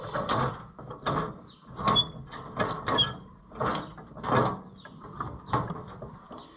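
A Garber seeder's top mechanism shuttles back and forth during restoration, giving a steady run of close, repeated mechanical sliding clacks and rattles in an even rhythm, with no talking.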